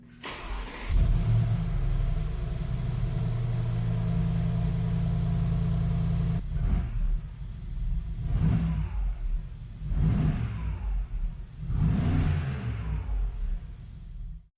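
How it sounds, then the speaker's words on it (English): A Mercedes G63 AMG with a Brabus 800 kit cold-starts with a loud catch and a sustained high idle roar, then settles into a lower idle broken by several rhythmic blips of revving, heard close with no talking. "I want to get a cold start for the boys"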